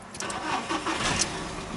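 A car engine cranking and catching in cold weather, a short close whir of the starter rising into a running engine.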